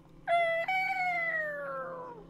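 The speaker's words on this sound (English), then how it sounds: "that's the sound of a gargoyle" A gargoyle in the video game Hidden Folks gives a single drawn-out, cat-like meow that starts high and slides slowly downward, clear and alone against quiet background.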